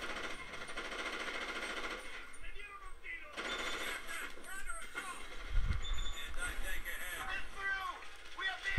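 Rapid automatic gunfire crackles through a combat scene in Ghost Recon Advanced Warfighter, sustained and busy, with a heavy low thump near the end and voices talking over the shooting.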